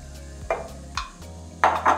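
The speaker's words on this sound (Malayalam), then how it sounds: "ഏകദേശം ഒരു 5 മിനിറ്റോളം നന്നായിട്ടൊന്ന് മിക്സ് ചെയ്ത് കുക്ക് ചെയ്തെടുക്കാം." Spice powder being stirred and cooked in coconut oil in a pan for a chicken roast, giving a few distinct scraping stirs with a soft sizzle underneath, fairly close and with no talking.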